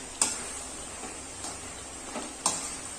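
Gooseberry pickle cooks in oil under a soft, steady sizzle while a spoon scrapes through it in a few slow, evenly spaced strokes, close and fairly quiet.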